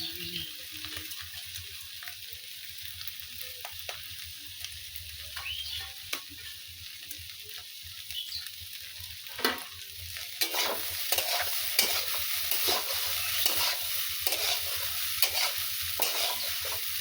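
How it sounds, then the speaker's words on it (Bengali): Pasta sizzles and fries in a pan while being stirred, a steady crackling hiss with scattered scraping and clicking stirs that grow busier toward the end, close and moderately loud with no talk. "একটু নেড়ে চেড়ে পাস্তা কটা দিয়ে দেবো।"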